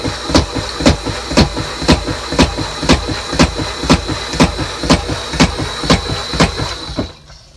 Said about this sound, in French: le dessalinateur a commencé de taper très fort et plus d'eau douce qui sort